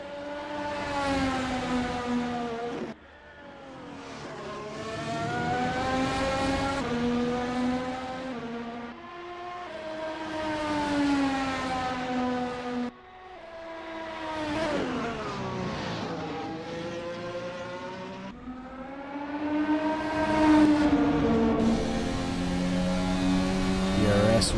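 A race car in a racing video game heads out of pit lane at Semanggi Interchange, its engine note rising and falling through repeated gear changes, loud and continuous throughout.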